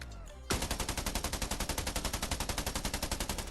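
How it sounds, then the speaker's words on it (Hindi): Automatic gunfire in the battle-royale game Scarfall 2.0, Mumbai map: one long, rapid, evenly spaced burst of loud, close shots that begins abruptly and runs to the end. "सॉरी गन साउंड्स आ रहे थे।"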